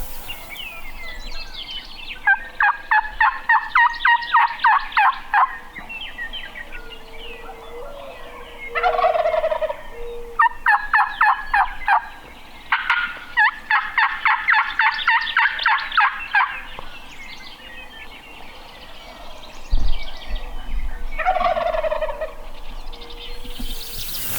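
Wild turkeys gobbling during a spring turkey hunt in South Dakota, several loud rattling gobbles in repeated bursts at moderate distance, outdoors with no talking.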